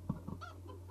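A chicken clucks in the video game El Dorado, a few short close clucks in quick succession over a steady low background hum.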